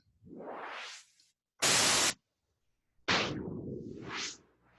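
Bursts of synthesized noise through a sweeping filter, some sweeping upward in pitch, one a flat full-band blast, separated by brief silences; no talking.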